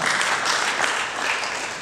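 Wedding guests in a church congregation applaud together in a steady, dense wash of clapping that holds at an even loudness throughout, with no voice rising above it.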